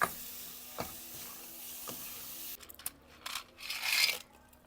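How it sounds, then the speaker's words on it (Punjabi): Tadka sizzles in hot oil with a steady bright hiss, then dried maah dal wadiyan drop in with a cluster of crackles and clatters before the frying quiets. "ਬਸ ਆਪਣਾ ਤੜਕਾ ਭੁੱਜ ਚੱਲਿਆ ਵਾ ਤੇ ਨਾਲ ਹੀ ਇਹਦੇ ਚ ਵੜੀਆਂ ਪਾ ਦੇਣੀਆਂ"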